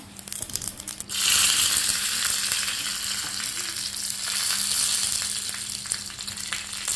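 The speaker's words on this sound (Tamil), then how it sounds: "கடுகு போட்டேன்" Loud, steady crackling sizzle of mustard seeds spattering in hot oil, a dense hiss that bursts up after a quiet second and keeps popping throughout.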